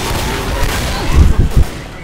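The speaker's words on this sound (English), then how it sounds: "I shot the witch." Gunfire in Left 4 Dead comes as a short cluster of thumping low shots near the end, loud and close over a busy, noisy game background.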